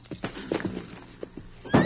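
A horse on a rough trail gives a short snort and whinny amid thudding hoof stamps, close and punchy, in an old radio-drama scene with no talk over it.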